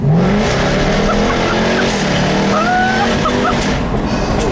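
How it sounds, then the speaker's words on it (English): A 2015 Jaguar F-Type R Coupe's engine roars steadily on a back road while tires squeal and spin, the revving climbing as the car pulls away; no talking. "you get lots and lots of wheel spin, and then it just takes off"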